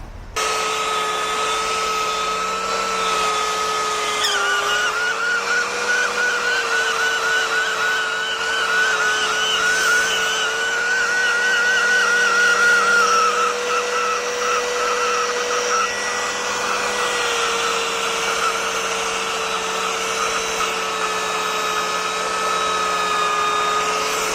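A belt sander grinds steadily on a workpiece during restoration work, a loud continuous motor whine with a high belt tone that rises and falls slightly as pressure changes, running the whole time with no talking.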